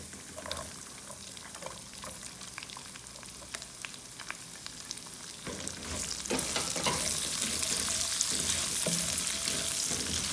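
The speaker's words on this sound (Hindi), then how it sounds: "अभी इसमें मैं डालने लगी हूँ प्याज।" Onions sizzle and fry in a pot for chicken rice, a steady crackling hiss with stirring clatter, growing louder and denser partway through.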